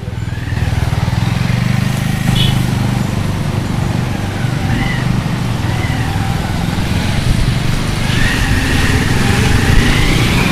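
A motorcycle engine drones steadily while riding on a hill road near a Brahmaputra eco camp, close and loud with a constant low rumble and faint wind noise.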